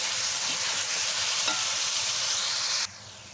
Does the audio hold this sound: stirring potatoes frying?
yes